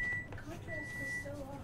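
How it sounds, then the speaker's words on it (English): A microwave oven gives two long, steady high beeps, faint in the background, with murmuring voices underneath. "Don't mind the beeping, that's the microwave."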